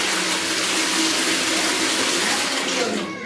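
Tap water gushing steadily and loudly close by as cold water is mixed into geyser-heated bath water, a continuous rush that eases slightly at the end, with no talking.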